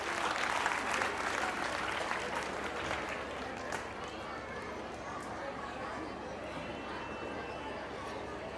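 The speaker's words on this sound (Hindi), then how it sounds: "So please welcome them with a huge round of applause." Audience applause at a school annual fiesta in Hisar, heavy clapping at first that thins to a steady murmur of crowd chatter and scattered claps across a large hall.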